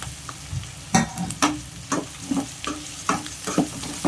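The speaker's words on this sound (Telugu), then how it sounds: "ఉల్లిపాయలు ఎర్రగడ్డ ముక్కలు ఇప్పుడు మనం బీరకాయ కూడా వేసేస్తున్నాం" Onions and ridge gourd pieces fry in oil in a pan, a continuous sizzle punctuated by regular scraping stirs, close and fairly loud with no talk.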